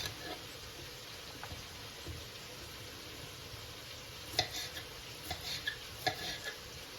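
Korean-style mushrooms frying quietly in a pan, a soft steady sizzle with a few light scrapes of stirring.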